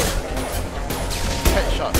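Gunfire from the video game Mass Effect 2: a dense run of sharp shots and impacts crackles continuously over a rumbling game soundscape, with a louder burst near the end. Voices talk over the action.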